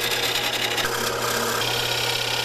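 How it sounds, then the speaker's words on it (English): Scrap wood spins on a wood lathe, making a loud, steady grinding and scraping with a constant hum underneath, with no break and no voices over it. "A lathe can be used to turn wood into a usable product very quickly."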